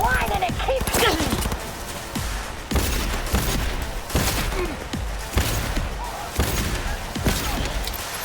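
Gunfire in Cyberpunk 2077 crackles in repeated bursts every second or so, loud and close, mixed with thuds and heavy impacts while a voice speaks between the volleys.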